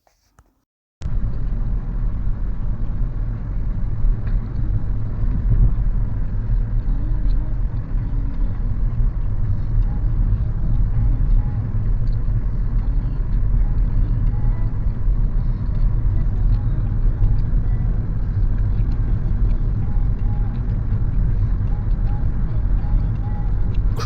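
A 2015 Audi A1 1.4 TFSI with a manual gearbox cruising on the road, its interior filled with a steady low engine drone and tire rumble that starts abruptly after a second of quiet and holds evenly throughout.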